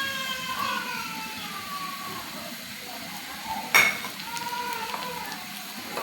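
Ginger and cumin paste fries in a pan with a soft, steady sizzle, broken by a single clink of utensil against the pan partway through.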